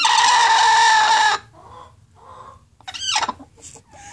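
A hen gives a loud, sustained squawk, then a series of softer, intermittent clucks and a sharp rising cackle, close by with quiet gaps between calls and no talking.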